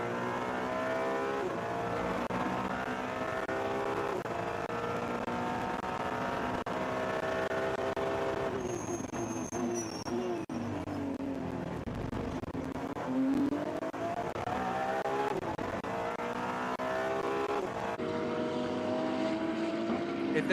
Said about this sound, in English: That is a glorious engine on that 296